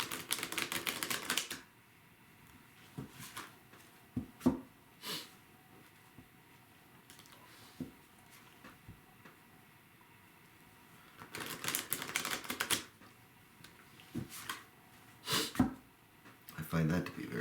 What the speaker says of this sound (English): Sometimes I just listen to the shuffling of the cards.